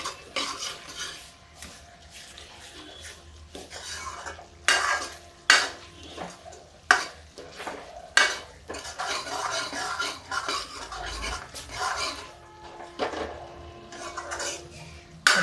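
A spoon scrapes and knocks around a pan as stone-ground rajma fries for nimona, metal clinks and scrapes coming in irregular bursts over a low sizzle, close and fairly loud.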